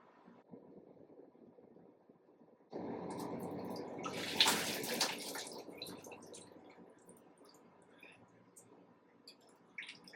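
Water drains from a whole-house water filter housing into a 5-gallon bucket below, a hollow splashing stream that starts abruptly and runs on, with a brief louder gush partway through.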